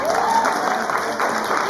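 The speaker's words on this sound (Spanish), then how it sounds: "Muy bien, un súper aplauso." A group applauds at the close of a Fab Academy gathering, with dense, steady clapping that carries evenly through the whole moment at a fairly close distance.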